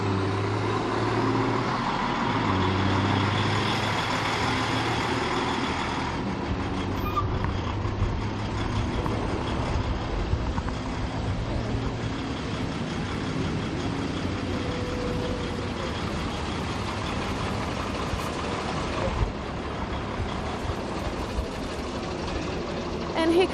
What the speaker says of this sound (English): here comes a special one with Emmerich Nagy driving this big man truck, 6x6